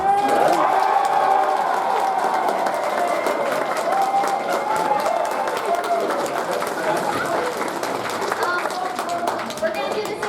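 Convention panel audience at BronyCon applauding and cheering loudly in a steady, dense wash of clapping with voices mixed in, sustained throughout.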